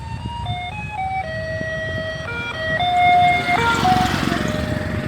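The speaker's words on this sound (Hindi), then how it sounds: "ये तो ब्रेड की सप्लाई वाला था और बीथोवन चलाते हुए जा रहा है।" A bread delivery vehicle passing near a temple in Sri Lanka plays a Beethoven tune as an electronic melody of clear stepped notes, moderately near, over engine rumble that grows louder toward the end.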